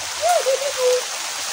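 Heavy rain pours down as a dense, even broadband hiss, with a brief voice rising over the downpour.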